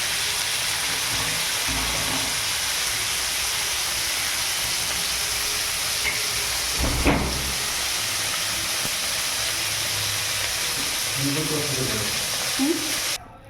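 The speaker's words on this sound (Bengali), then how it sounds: "মাছ ভাজা হয়ে গেছে বন্ধুরা" Fish fries in oil in a home kitchen, giving a steady broadband hiss that runs through the clip, briefly swelling midway before cutting off at the end.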